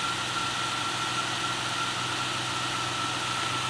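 A 2002 Toyota Tundra SR5's 4.7-liter i-Force V8 idles steadily at close range, a smooth, even low rumble with a faint whine above it, alone and unbroken.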